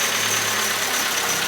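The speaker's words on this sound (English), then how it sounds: "We're just gonna run the engine up now and see if we have drive as well." A car's engine revs steadily after a clutch repair on a crash-damaged vehicle, a loud continuous running drone close up with no talking.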